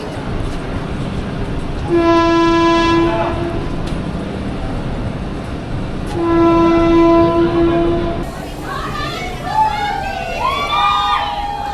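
A Howrah–Kamakhya Sleeper Vande Bharat train horn blasts twice in long sustained tones over rumbling rail noise, followed by birds chirping and faint voices in the background.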